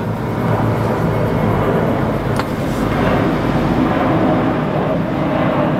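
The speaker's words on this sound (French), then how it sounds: "il y a du bruit d'avion, de voitures, de scooters" Steady, loud drone of passing traffic with a low airplane rumble overhead, a constant broadband roar filling the whole stretch without pause.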